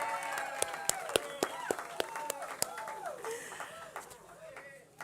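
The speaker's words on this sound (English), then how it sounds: "Can we give them a round of applause? Come on, louder than that, guys, louder." A city council meeting audience applauds and cheers for cheerleaders, with scattered sharp claps, whoops and voices rising over a busy room murmur.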